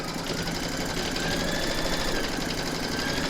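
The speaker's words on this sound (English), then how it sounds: "Pop your hoop into your machine and stitch round number 2 to secure them." An embroidery machine stitches appliqué in the hoop, a fast, even mechanical chatter that runs continuously and close up with no pauses or talk.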